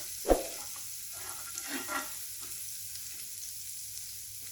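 Roti frying with butter on a pan, a faint steady sizzle with a sharp tap near the start and a few soft scraping touches, no voices.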